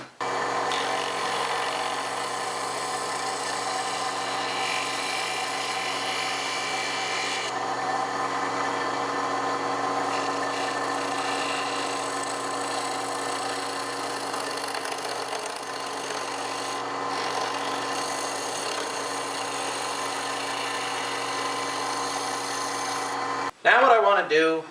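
A wood lathe spins at high speed turning wood for furniture parts, a steady loud motor whine with rubbing cutting noise that runs continuously and stops abruptly near the end.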